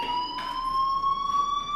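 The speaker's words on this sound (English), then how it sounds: "Hey, do you hear that fire alarm?" Steady electronic fire alarm tone sounds in the video game Life Is Strange, a continuous high whine with harmonic overtones holding loud and unbroken throughout, with faint background noise and no talking.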